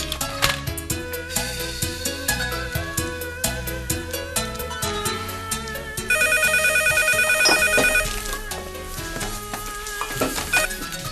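A telephone rings repeatedly in a domestic comedy scene, its electronic tones rising over a busy music track that runs throughout, with a denser stretch of ringing in the middle.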